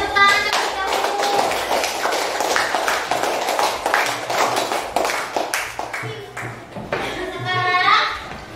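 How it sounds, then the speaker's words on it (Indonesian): A classroom of children claps their hands in a lively burst, mixed with children's voices and a teacher talking, with taps and clatter close by. "Boleh tepuk tangan terlebih dahulu"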